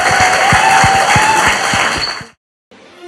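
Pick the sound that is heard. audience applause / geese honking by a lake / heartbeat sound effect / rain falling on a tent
audience applause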